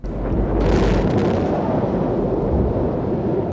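Deep, sustained roar of a hydrogen bomb explosion from the Operation Castle test, a heavy rumbling blast that rises quickly after a sharp onset and rolls on loudly without letting up.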